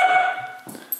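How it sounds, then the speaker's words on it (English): A dog lets out a single drawn-out bark or howl that fades, followed by a few faint yips and rustles, close by with no talk over it. "you're a fearless dog"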